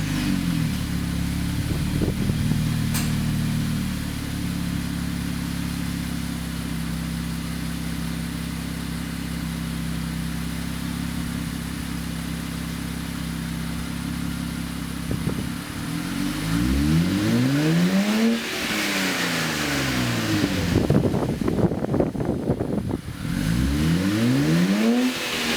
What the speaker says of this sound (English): This is what the car sounds like driving